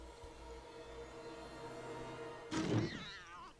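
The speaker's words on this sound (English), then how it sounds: "It was a little kitty cat." A cat in the horror game Little Hope lets out one sudden, loud meow near the end, breaking a quiet stretch of low, droning ambience.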